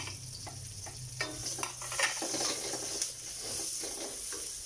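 Chorizo frying in a pan with browned onions, cooked for Bicol-style pansit bato: a steady sizzle with scattered scraping and stirring clicks, close and moderately loud, no voices.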